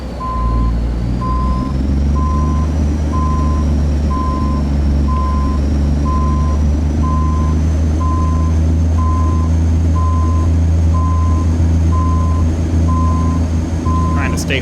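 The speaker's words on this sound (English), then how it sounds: "get ourselves in reverse and look backwards, and then we'll steer the trailer, not the truck, all the way back into the space" A truck backs a trailer into a space, loud steady reversing beeps repeating at an even pace over a deep idling diesel engine rumble throughout.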